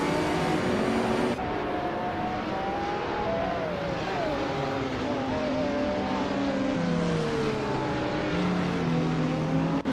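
Race cars roaring around a track, engines whining and shifting pitch steadily as they accelerate and jostle for position, a dense continuous drone with overlapping engine tones.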